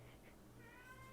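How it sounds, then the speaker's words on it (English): A pet cat named Bobby meows in the background, a short faint cry rising over quiet room noise with no talking. "that's my cat. If you hear that crying in the background"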